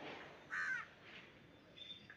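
Crows cawing outdoors, one fairly close call standing out briefly, with fainter calls around it over a steady background hiss.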